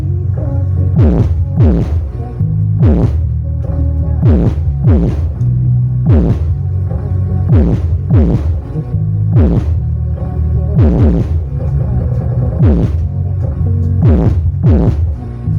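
An 18-inch double-magnet subwoofer speaker under test pumps out loud, deep bass: a sustained low hum punctuated by regular thumping beats roughly twice a second, close and without talk.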